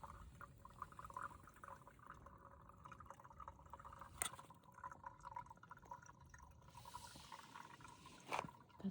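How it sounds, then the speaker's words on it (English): Creek water trickling and dripping steadily through a filter into a bottle, a thin continuous stream with occasional sharper drips, quiet and close. "That's how I filter water."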